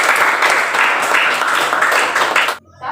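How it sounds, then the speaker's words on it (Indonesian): Applause from a class of students fills the room, dense and steady clapping for about two and a half seconds before it abruptly dies away. "Kita aplaus dulu untuk kita semua."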